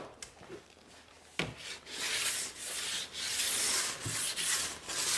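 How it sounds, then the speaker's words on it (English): A diamond stone is run up and down the side edges of a ski, making close, steady rasping strokes that repeat in a continuous rhythm with short breaks between passes. "We're going to run up and down the ski side edges."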